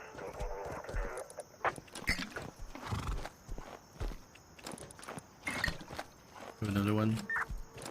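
Horses being hand-fed treats, with hooves clip-clopping, snorts and a loud whinny near the end, under a person speaking nearby.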